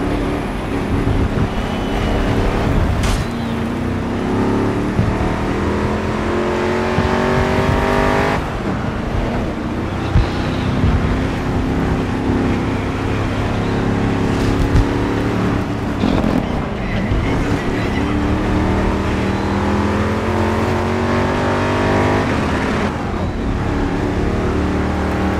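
Racing engines from a 1971 Plymouth GTX and rival cars roar continuously in the GRID Legends video game, loud and close, with gear-change pitch sweeps and brief dips as cars pass. A voice talks faintly underneath.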